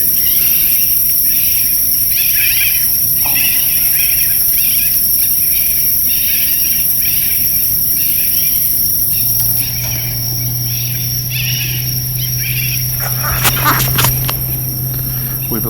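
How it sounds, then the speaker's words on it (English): Cuban tree frogs calling from the jungle behind a house on Maui, a dense steady chorus of chirping with high insect-like trilling, continuous and moderately far, with a low hum joining later. "We believe those are Cuban tree frogs"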